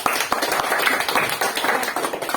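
Students in a classroom clap for a group, a brisk, close burst of many hands lasting a couple of seconds with no talking.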